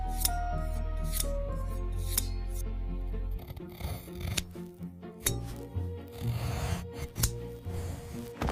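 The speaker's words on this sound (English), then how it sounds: "Mother Goat grabbed her scissors." Scissors snip and rasp through a sack, heard close as a series of sharp cuts and rubbing, scraping sounds after a low steady hum stops partway through.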